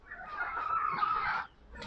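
A chicken in a coop gives a drawn-out, fairly close cluck lasting over a second, followed by quiet.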